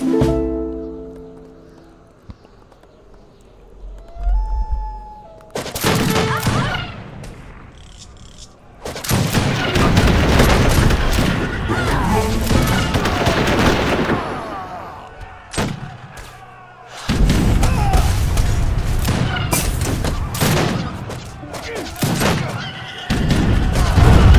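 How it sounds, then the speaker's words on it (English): Age of Empires 3 battle of hand mortars against Napoleon cannons: dense bursts of booming artillery and gunfire erupt in waves, with horse whinnies and clashing in-game battle noise between quieter gaps. "look at the hand mortars going up against the Napoleon cans"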